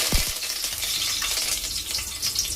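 Curry leaves hit hot oil in a pan and sizzle loudly and steadily, a close continuous crackle with a few sharp pops at the start.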